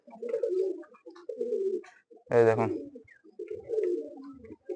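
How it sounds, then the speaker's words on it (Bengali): A Kalanka pigeon at a flying-pigeon show gives one short, close coo in a gap between stretches of a voice talking before and after it. "প্রথমে আপনাদের এই কালাঙ্কা পায়রাটা দেখায়"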